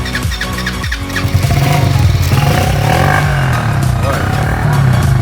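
A quad bike engine fires up and revs hard, a loud rough drone with rising and falling pitch running throughout, while people talk near the machine.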